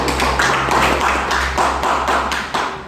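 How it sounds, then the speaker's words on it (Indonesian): A room full of people gives a sustained round of applause for Ibu Fatmawati during a teacher counselling session, the dense clapping steady for about three seconds. "Kasih aplaus untuk Ibu Fatmawati."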